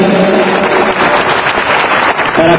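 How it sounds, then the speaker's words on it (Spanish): An audience claps at a school pageant ceremony, with steady dense applause filling the whole stretch and a voice briefly heard near the end. "Fuerte palmas."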